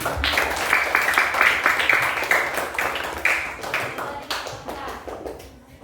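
Applause from a classroom group of students for a classmate presenter after a coffee-making demonstration, a few seconds of scattered hand claps of moderate loudness that fade toward the end, with some voices mixed in.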